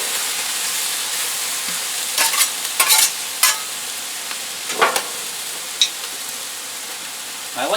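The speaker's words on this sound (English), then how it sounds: "You want to get that rice cooking a bit." Cooked rice stir-fried with dark soy sauce in a hot pan for egg fried rice: a continuous sizzle broken by several loud scraping stirs and tosses, with no voices.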